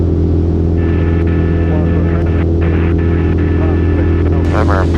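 Light aircraft engine held at full power around 2,500 RPM during aerobatic rolls and loops, a loud steady drone with a constant throbbing hum filling the whole stretch.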